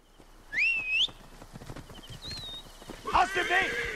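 Horse hooves clop in Assassin's Creed Origins as the mount sets off, alongside a whistle-like call and a short neigh, with someone talking over much of it.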